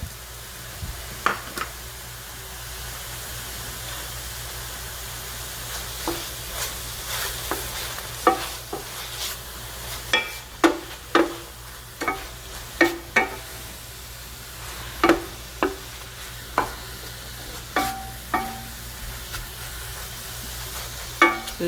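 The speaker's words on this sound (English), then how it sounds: "And they're starting to, like, kind of sauteing now with the oil." Butternut squash and collard greens sautéing in oil with salt in a pan: an even low sizzle under frequent crisp clacks of a utensil stirring, roughly once a second, with no talk.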